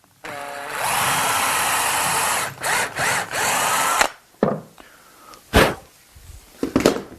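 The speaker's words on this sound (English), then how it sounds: "And we'll drill the hole for that." A power drill bores a hole in a wooden drawer, one long sustained whine with a few quick bursts, followed by scattered knocks and handling clatter of the workpiece.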